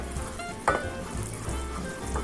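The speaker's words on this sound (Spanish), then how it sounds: "espero que se vayan un poquito de esas burbujas que está hirviendo" Sugar syrup for Italian struffoli bubbles and sizzles in a pan right after the heat is turned off, a close, steady crackling fizz with a few soft clinks of a utensil against the pan.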